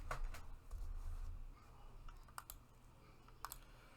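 Sparse clicks of a computer keyboard being typed on, a few soft scattered keystrokes in small clusters, close but quiet over low room rumble.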